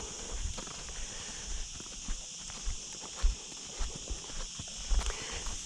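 A horse led in a rope halter walks on firm ground, its hooves clopping in a slow, regular rhythm, close and moderately loud, with no voices.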